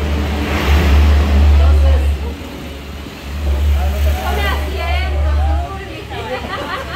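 Cars pass on a nearby road at an outdoor meal, a steady low engine rumble that swells twice as vehicles go by, heard under people talking loudly in Spanish.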